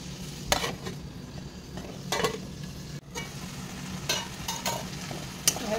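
Banana flower curry with shrimp frying in oil in a pan, a low steady sizzle broken by sharp spatula scrapes and knocks against the pan every second or so, close and moderately quiet.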